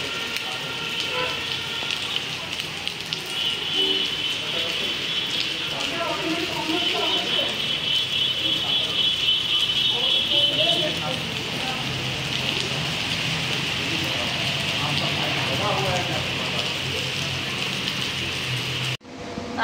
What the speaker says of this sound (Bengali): দেখো বন্ধুরা কি হারে বৃষ্টি হচ্ছে।